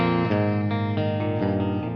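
Clean guitar amplifier tone with no effects pedal engaged, sustained chords ringing with a few distinct strums, steady and fairly loud, heard on its own without talk.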